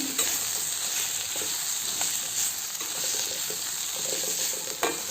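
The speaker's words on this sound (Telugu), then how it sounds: "పసుపు కూడా వేసిన తర్వాత మళ్ళీ ఫ్రై చేసుకుందాము" Sliced bitter gourd with turmeric fries in a pan, giving a steady close sizzle that runs unbroken, with a few soft stirring knocks and scrapes.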